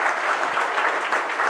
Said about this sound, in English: Can we have a round of applause for Rohit Chawla?